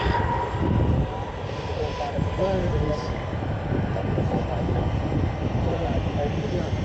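A Turkish Airlines A320neo jet beginning its takeoff roll at Manchester Airport gives a loud, steady engine roar heard from the runway-side viewing area, with a voice talking over it.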